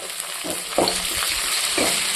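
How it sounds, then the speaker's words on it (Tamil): Curry leaves and drumstick leaves sautéing in hot oil for a fish curry, a steady close hiss of frying with a few soft stirring strokes over it. "கருவேப்பிலையிலும் முருங்கை இலையிலும் நல்லா எண்ணெயில் வதக்கிக்கலாம்"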